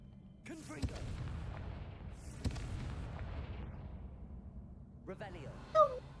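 Confringo fire spell blasts in Hogwarts Legacy, a few sharp booming bursts over a low rumbling background, the last one louder and crackling.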